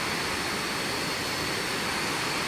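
Krathing waterfall in Chanthaburi: a dense, unbroken rush of falling water, loud and steady throughout, with no voices or other sounds on top.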